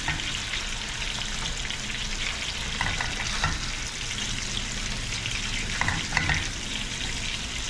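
Crappie fillets frying in a pan make a steady, close sizzle throughout, with a few soft clicks and scrapes around the pan.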